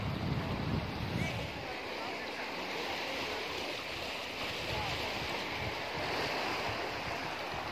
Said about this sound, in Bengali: জলের আওয়াজ দেখো।